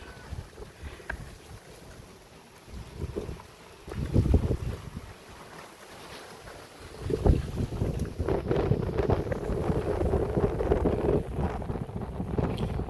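Strong wind gusting across an outdoor rural village setting, buffeting the microphone in a rough, rushing roar that swells briefly near four seconds and then grows louder and steadier through the second half.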